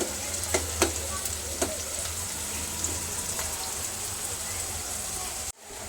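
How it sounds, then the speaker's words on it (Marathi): Onion frying in a pan until browned, for misal pav, gives a continuous close sizzle with occasional clicks from stirring before it cuts off abruptly near the end. "मध्ये कांदा असा तांबूस होईपर्यंत आपल्याला परतून घ्यायचं आहे."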